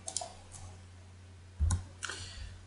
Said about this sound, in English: select the file, right click and copy